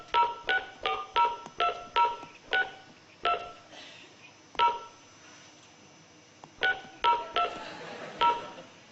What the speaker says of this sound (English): Let's see if it works, shall we? I'm going to dial.